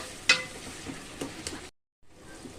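Onions frying with curry leaves in a pan give off a steady hiss and crackle with a few sharper pops, close and moderately loud, briefly cut to silence before the sizzle resumes.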